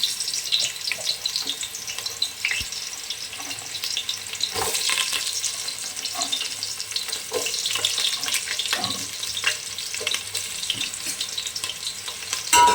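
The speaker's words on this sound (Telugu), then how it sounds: "ఉల్లిపాయలు అయితే వేస్తున్నాను." Onions sizzle steadily in hot oil in a pan while being fried for biryani, with occasional stirring scrapes and clinks, close and continuous with no talk.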